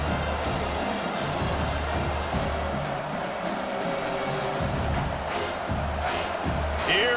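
Home crowd noise at a college football game between #7 Washington and Kentucky, a steady broad roar of spectators throughout, swelling slightly near the end as the defense faces third down.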